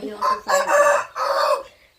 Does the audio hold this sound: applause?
no